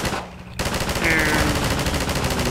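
Rapid automatic fire from the airboat-mounted gun in Half-Life 2, a loud, continuous burst of shots that starts abruptly after a brief lull and keeps going at a steady, dense rhythm.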